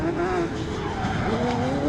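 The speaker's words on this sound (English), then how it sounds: "1000cc motorcycle engine RX150s" RX150 rallycross cars powered by 1000cc motorcycle engines race past with high-pitched engine whine and tyre squeal, loud and continuous, under faint commentary.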